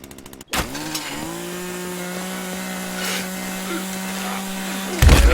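A chainsaw weapon in the video game The Culling revs up after a brief sharp burst, then drones steadily at a high, buzzing pitch for several seconds, loud and close, with faint game noises behind it.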